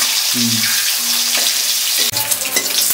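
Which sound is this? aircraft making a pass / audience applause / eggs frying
eggs frying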